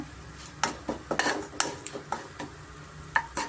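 A spoon scrapes and clinks as rice is stirred into mango chitranna masala in a pan, giving irregular close, quiet scraping strokes with a faint sizzle underneath.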